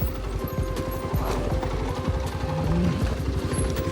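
A mule's hooves clop in quick, irregular steps on a rough mountain trail, close and distinct, with faint clinks mixed in and no talk.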